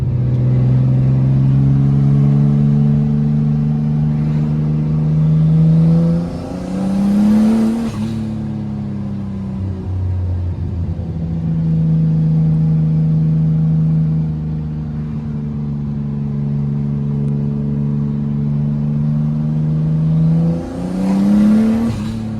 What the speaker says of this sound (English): once it gets warm, we can take her for a drive